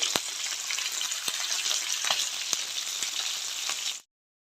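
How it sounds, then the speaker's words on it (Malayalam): Pieces of rohu fish frying in a pan, a steady close-up sizzle with scattered sharp pops of spitting oil, no voices, cutting off abruptly to silence. "അപ്പോൾ നമ്മൾ എടുത്തു വെച്ചിട്ടുള്ള ബാക്കിയുള്ള മീനും കൂടെ ഇതുപോലെ ഒന്ന് ഫ്രൈ ചെയ്തെടുക്കാം"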